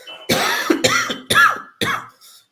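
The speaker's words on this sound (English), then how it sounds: "Sorry for my cough" A person coughs four times in a close, harsh series, each burst short and rough, with brief pauses between.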